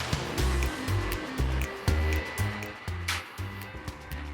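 A vintage Lady Sunbeam home hair dryer runs with a steady whooshing hum, pulsing in a regular rhythm, fairly loud and up close, with no talking.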